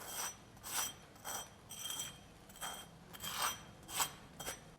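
A grilled veg cheese corn sandwich toasted on a tawa crunches as it is cut or pressed, giving a series of sharp, crisp crackles spaced about half a second apart. The crackles are close and quiet, and no one speaks.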